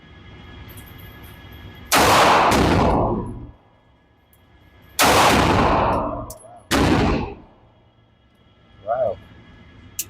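Gunshots at an outdoor shooting range, fired from a Vulcan: three loud, close blasts spaced a few seconds apart, each with a short echoing tail, then a fainter brief report near the end.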